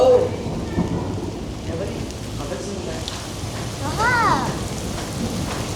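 Heavy stormy rain pours in Quetta with a constant loud hiss and rumbling thunder, close and continuous while someone speaks over it.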